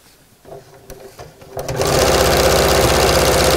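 A few soft handling knocks, then a sewing machine stitching a tote bag with a dividing pocket starts up and runs at a steady, loud, whirring buzz.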